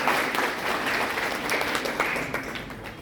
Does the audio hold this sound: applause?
yes